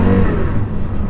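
A Porsche Carrera GT engine revving hard under acceleration while driving, a loud, dense mechanical roar that fills the whole short burst, close and unbroken.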